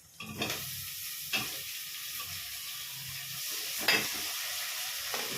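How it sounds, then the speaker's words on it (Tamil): Onions and tomato frying in a pan for a spicy tamarind curry, with a constant close hiss of sizzling oil and occasional sharper scrapes from stirring. No voices are heard. "இப்போ நம்ம வந்து நல்ல வெங்காயம் வதங்குது"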